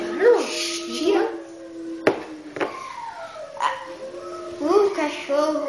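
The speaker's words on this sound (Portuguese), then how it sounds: "O cachorro vem trabalhar bem na hora do vídeo, hein?" A dog barks and whimpers in short, irregular bursts indoors during a kitchen smoothie challenge, moderately close, with sharp broadband yips mixed among tonal whines and a person talking over parts of it.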